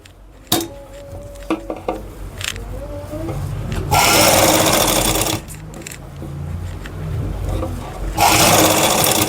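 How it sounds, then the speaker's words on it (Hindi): A sewing machine stitches fabric in two loud runs, preceded by scattered clicks and handling knocks, with quieter mechanical rattling between the bursts. "बिल्कुल सटाते हुए सिलाई लगाएंगे"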